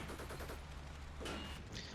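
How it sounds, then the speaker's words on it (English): Rapid 50 caliber machine gun bursts in the Combat Mission Shock Force 2 war game, distant-sounding and fairly faint, a rattling stream of fire over a low rumbling battlefield background. "the 50 caliber team opened fire on the Overwatch BMP and force it to fall back"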